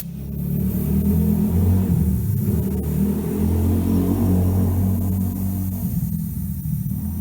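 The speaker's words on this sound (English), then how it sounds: "I've got my air compressor regulated way down so I don't immediately blow this out" An air compressor regulated way down runs while pressurizing a natural gas line in a pole barn, a loud continuous engine-like rumble with steady low throbbing that holds throughout, near and with no talk.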